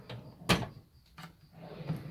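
A toolbox drawer slides and knocks shut once with a sharp clatter, followed by fainter thuds from more drawer movement in a quiet workshop.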